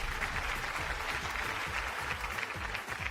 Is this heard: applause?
yes